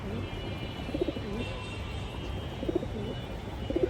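Pigeons in a loft give soft, low cooing calls in short clusters at intervals over a quiet room hum.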